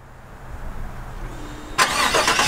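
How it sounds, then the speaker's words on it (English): A 2018 Chevrolet Silverado LT V8 truck is remote started: a quiet stretch of faint background hum, then an abrupt crank and catch as the engine fires and settles into a loud, close idle. "and she's cranked right up. You can hear that V8 purring real nicely."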